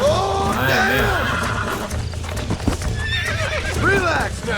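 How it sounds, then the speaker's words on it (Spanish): In the Western video game Red Dead Redemption, a horse neighs and whinnies repeatedly over the clip-clop of its hooves, with someone talking throughout in a loud, busy game mix. "Qué caballo más loco, tío."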